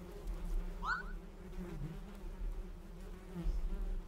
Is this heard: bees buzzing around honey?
yes